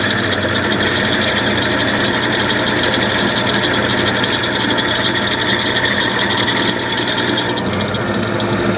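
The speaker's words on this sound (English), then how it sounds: "So we're going to go ahead and lay this on here and grind it a little bit." A jewelry piece is ground on a bench grinder to remove fire scale, a loud continuous whirring grind with a steady motor hum that cuts off near the end.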